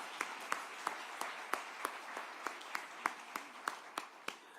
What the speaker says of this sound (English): you can clap for homeownership